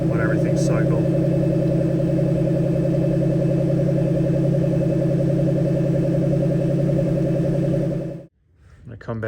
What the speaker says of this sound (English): Just gonna let it idle for a minute, let everything cycle.